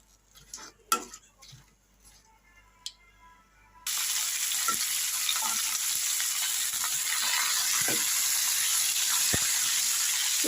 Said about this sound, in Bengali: কুমড়োগুলো একটু ভালো করে ভেজে নিতে হবে